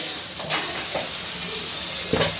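Masala for noodles sizzling in a hot pan, a continuous hiss with a few brief scraping stir strokes, close and moderately loud, no voices.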